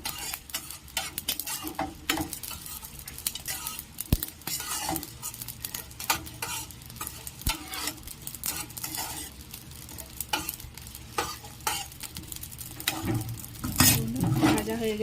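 Ingredients fry in a pan, stirred and scraped until reddish, for a Bengali mixed-vegetable labra with fish head: constant sizzle under frequent clinks and scrapes of a spatula against metal, swelling louder near the end.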